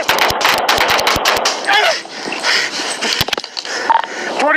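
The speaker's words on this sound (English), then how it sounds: "Shots fired." A rapid volley of loud gunshots fired during a police shooting, sharp cracks in a fast burst followed by a few more scattered shots, with voices heard in between.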